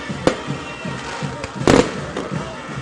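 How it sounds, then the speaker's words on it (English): Fireworks after a high school football game between Callaway and Cedartown pop in several sharp bangs, one especially loud burst among scattered softer cracks, over a constant outdoor hiss with faint voices. "They got fireworks."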